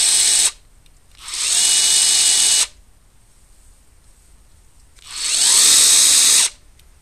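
A Draper Expert 3/4-inch brushless impact wrench fires in three separate trigger pulls, each a loud, close, high whining burst that spins up and stops abruptly, separated by short silences.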